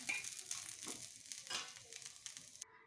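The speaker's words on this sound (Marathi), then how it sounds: "कांदा पण आपला चांगला फ्राय झाला आता।" Onion frying in a pan while cooking a fish fry, a faint steady sizzle with soft crackling and occasional stirring scrapes, heard close up without talk.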